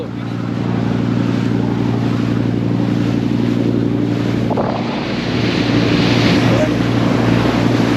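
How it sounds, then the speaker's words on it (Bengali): A tour boat cruises on the sea near Phuket with a steady engine rumble, wind buffeting and rushing water throughout, loud and continuous. "আমাদের ছোট বোটে কালকে গেছিলাম এর তুলনায় এই বোটটা কিন্তু আরো স্লো"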